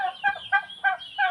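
A turkey gobbling nearby, a rapid warbling call repeated in several quick pulses, clear and alone.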